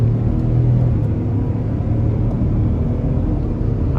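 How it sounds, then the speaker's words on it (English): A 2021 Ford F-150 XL regular cab with the 5.0 V8 under throttle, a loud, deep, steady engine rumble heard from inside the cab. "We're gonna give it some throttle here."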